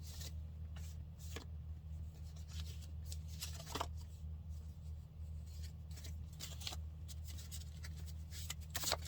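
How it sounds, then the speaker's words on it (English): A tarot deck being shuffled close by, soft papery flicks and riffles coming in uneven bursts over a steady low electrical hum, faint overall, with no voices. "gonna go ahead and shuffle this one real quick too"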